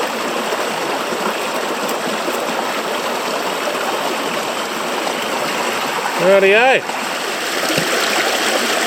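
A river in north-east Tasmania flows steadily with a continuous watery rush during gemstone prospecting, and a voice speaks briefly near the end.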